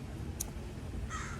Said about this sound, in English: we have a murder of crows in our yard that drive me nuts